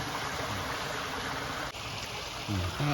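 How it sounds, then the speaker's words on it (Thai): Water flowing steadily through a traditional Isan bamboo fish trap (li) set in a stream, a continuous close rushing and trickling with no voices. "น้ำไหลไปนี่ ไหลไปหัน"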